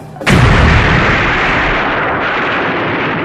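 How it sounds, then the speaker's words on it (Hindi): A single loud explosion bursts suddenly aboard a train, close and powerful, then a long rumbling roar decays slowly with no voices. "अभी उसकी आंख लगे हुए बस 15-20 मिनट ही हुए थे कि एक जोरदार धमाका हुआ।"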